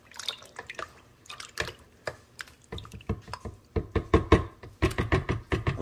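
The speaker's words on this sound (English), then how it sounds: "Give them just a little stir." Crushed muscadine grapes are stirred for homemade wine, giving a run of wet, squelching knocks and drips that grow louder and faster toward the end.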